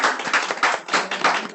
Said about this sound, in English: let's give these wonderful, wonderful, wonderful women a round of applause